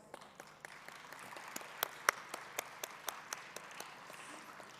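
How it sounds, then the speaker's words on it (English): Scattered audience applause at a conference session on an outdoor parade ground, sparse individual claps that thicken briefly and then thin out, heard from a distance. "Where are the claps?"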